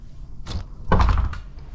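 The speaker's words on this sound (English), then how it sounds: "Sticking door, that's what we got here." A sticking door on a cruise ship scrapes and thumps as it is forced open, a short rough bump followed by a louder grinding shove, close by.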